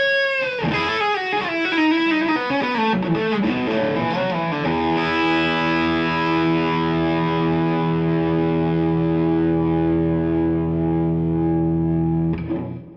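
Electric guitar through a boost pedal for leads, a distorted, sustaining lead line with bent notes settling into a long ringing chord that fades at the end, loud and alone.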